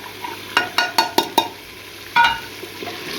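Spices with red chilli and turmeric fry in a pan, a faint sizzle under a quick run of five sharp utensil scrapes and a later louder scrape, all close by.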